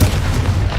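A single Confringo fire-spell blast from Hogwarts Legacy, a short loud booming burst with heavy low end, heard on its own.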